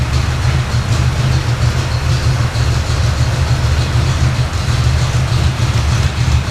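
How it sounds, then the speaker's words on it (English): A rebuilt motor idles steadily after a carburetor float adjustment, a loud, close, continuous low rumble with an even pulsing rhythm and no voices over it. "Now it's idling down where it's supposed to."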